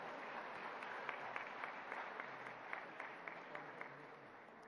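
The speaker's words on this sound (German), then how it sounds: "Applaus geht auch." Applause from the audience at an award presentation during an annual Ghadir Khumm festive gathering in Hagen: soft, steady clapping with a crisp patter, heard from a distance in a large hall.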